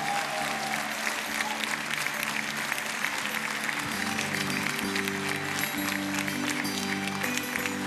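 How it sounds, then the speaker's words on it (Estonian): An audience at an accordion music competition final applauds steadily and thickly over sustained accordion-like tones. "Teie marulise aplausi kestel ootame"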